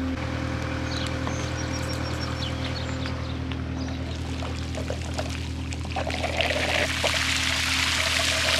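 Slimy fertilizer water siphoning and draining out of a farm wagon beside a skid loader, a steady pouring, trickling rush over a constant low engine hum, growing louder and splashier toward the end.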